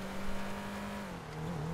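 A stolen car's engine in GTA 5 Online holds a steady droning rev, then dips slightly in pitch, loud and continuous with no one speaking.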